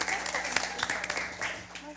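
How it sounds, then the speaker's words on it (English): Audience applause for contestants at a junior science quiz in Antigua and Barbuda, scattered moderate clapping spread across the moment without a voice over it. "give them a round of applause"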